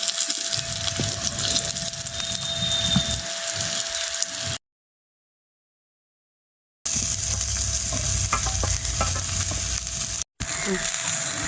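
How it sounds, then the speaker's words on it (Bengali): Oil sizzling and crackling steadily as bitter gourd and stems fry in a pan for shukto, with soft stirring and scraping, interrupted by a brief silent gap. "তো এবার আমি উস্তাটা ভেজে নেবো"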